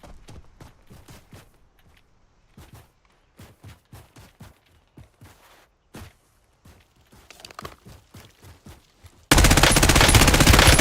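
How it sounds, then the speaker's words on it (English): Video game gunfire crackles in quick bursts of single shots and short volleys, fairly close, ending in a sudden loud, dense blast of sustained noise. "Taking fire! Reloading."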